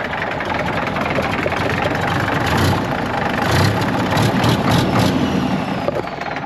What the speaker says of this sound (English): And since I don't have a throttle, the idle is way too low.